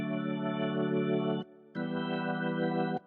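A vintage B3 organ on a lighter shade preset plays a sustained bright chord, cut off briefly in the middle and then held again, close and fairly loud with rich harmonics and no voices.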